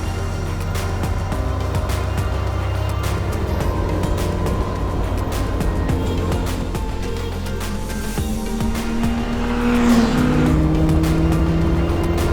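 A race car on track during an academy track day roars steadily and close, its engine droning at high revs throughout, then the pitch climbs as it accelerates near the end, with no voices.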